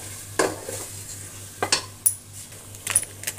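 Onion paste and spices for halim are stirred in a pan, with a low sizzle under scattered sharp scrapes and clinks of a utensil against the metal.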